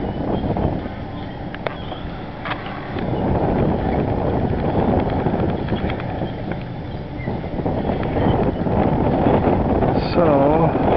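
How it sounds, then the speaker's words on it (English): A strong breeze roars across the microphone beside flags flying outdoors, a continuous loud buffeting rush that rises and falls in gusts, with a voice speaking briefly over it. "with the breeze going pretty fast, and the flag standing at attention"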